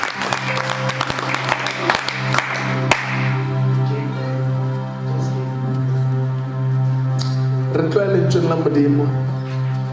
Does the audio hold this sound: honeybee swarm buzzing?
no